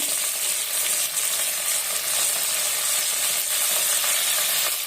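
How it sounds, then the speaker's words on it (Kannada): Mint leaves frying in a little oil for donne biryani give a steady, close, bright sizzle that holds evenly throughout, with no talking. "ಪುದೀನ ಹಾಕ್ತಾ ಇದ್ದೀನಿ ಸ್ವಲ್ಪ ಎಣ್ಣೆಯಲ್ಲಿ"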